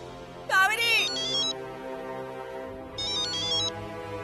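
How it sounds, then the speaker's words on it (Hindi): A mobile phone ringtone plays two bursts of bright electronic melody, separated by a pause, over steady background noise and faint indoor sounds. "अरे फोन बज रहा है तेरा।"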